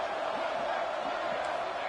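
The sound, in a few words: football game crowd cheering a big play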